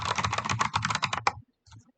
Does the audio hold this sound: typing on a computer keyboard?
yes